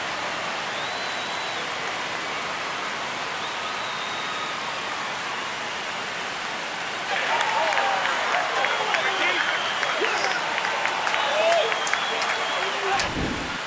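Baseball crowd at Rogers Centre cheering after a home run, a broad wash of noise that swells suddenly into louder applause and shouting partway through, with an announcer talking over it.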